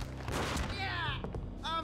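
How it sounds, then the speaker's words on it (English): Gunshot in the Max Payne shooter game, a quick burst of booming shots under a steady low game ambience, followed by a pained voice crying out. "Oh, God, you shot me."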